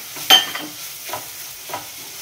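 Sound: stirring semolina into cooked banana in a pan

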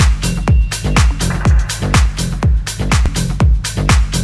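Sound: low-end bass boosted with Pultec EQ, 2 dB at 30 Hz

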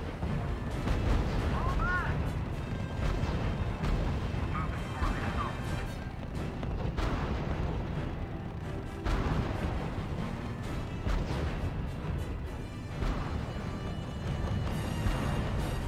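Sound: artillery fire in video game RUSE

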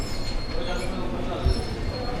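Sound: train at railway station

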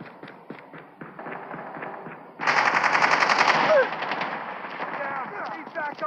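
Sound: sentry gun firing in a Call of Duty video game

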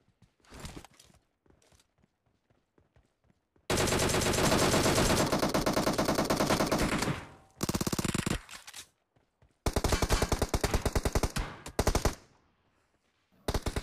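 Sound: gunfire in the video game PUBG Mobile

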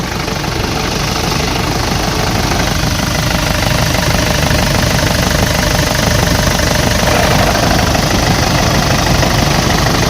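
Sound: Nissan Frontier King Cab 2006 pickup engine idling

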